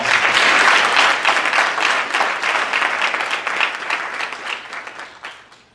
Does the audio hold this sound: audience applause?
yes